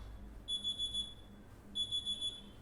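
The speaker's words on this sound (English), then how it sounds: "that's an alarm" An alarm clock goes off in two bursts of rapid high beeping, about four pulses each, with a pause between them. The room is otherwise quiet apart from a low background hum.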